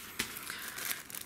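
Thin plastic crinkling as a small silica gel packet is handled, a quick louder crackle followed by softer rustling close to the microphone.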